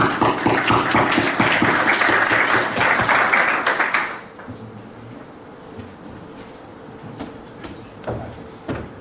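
Loud applause from a conference audience welcoming a speaker at a plastics trade and markets event, dense steady clapping for about four seconds before it fades to a quiet room.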